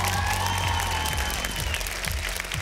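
Studio audience applauding a singer on the X-Factor Armenia gala show stage, steady dense clapping with a low crowd murmur sustained throughout at even loudness.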